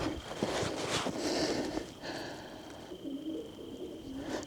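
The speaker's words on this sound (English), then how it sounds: "I think we're gonna upset quite the pigeon crowd because I hear them" Pigeons cooing inside an abandoned house in the mountains, soft repeated low coos and fluttering at moderate distance, faint and continuous with no talking.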